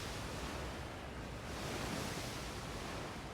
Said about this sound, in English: Did the ocean get louder?